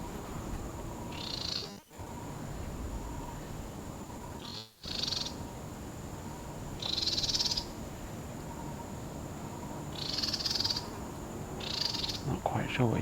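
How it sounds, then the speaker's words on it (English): A small bird calls in short bursts of high, bright notes from the tree canopy of a Singapore park, repeated several times at moderate distance over a soft outdoor background. "Can you hear the bird?"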